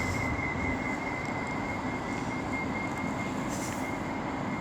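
Train on the West Coast Main Line at Birmingham International station, heard as a loud, steady rumble of rolling wheels with a faint high squeal that continues throughout.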